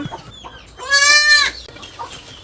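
A chicken gives a loud, drawn-out squawking cluck, close by, between quieter rustling and faint background noise, at a farm with goats.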